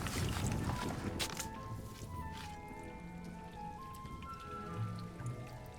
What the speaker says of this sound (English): It's just pouring down rain on it